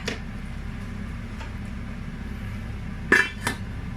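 A metal lid clanks onto a large pot of sour curry with fern shoots, two sharp clinks close together near the end over a steady low background hum.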